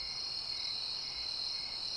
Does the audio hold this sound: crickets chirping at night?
yes